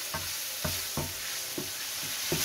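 Ham frying in hot olive oil in a pan, with a steady soft sizzle and several spaced scraping stirs or turns, fairly quiet and close, no talking.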